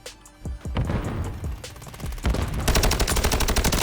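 Rapid automatic gunfire in the Warzone video game, a few separate shots giving way to a dense, loud, sustained burst of close-range firing with no talk.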